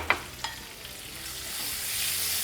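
Large-cut onion pieces frying in a pan for a mudda pappu avakaya rice dish, a steady broadband sizzle that swells slightly toward the end, with two sharp clinks of stirring near the start and no voices.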